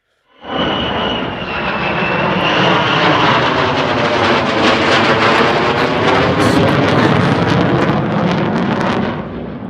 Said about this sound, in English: he's approaching the runway. He's landing